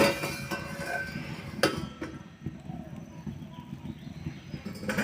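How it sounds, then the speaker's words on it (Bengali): A metal lid lifted off a pot in which a cake is baking over low heat, giving a few sharp clinks and one louder metallic clack amid quiet kitchen rustling. "এখন আমি ঢাকাটা খুলে দেখব।"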